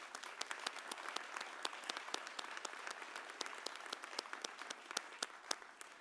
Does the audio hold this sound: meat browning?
no